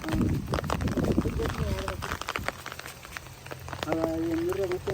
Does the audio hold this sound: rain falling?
yes